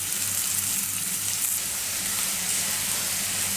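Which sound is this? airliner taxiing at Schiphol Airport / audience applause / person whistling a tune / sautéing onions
sautéing onions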